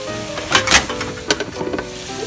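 Flounder frying in a pan for a Calvados-style fish dish, giving a steady close sizzle with a few brief louder bursts of crackle and pan movement, no talking.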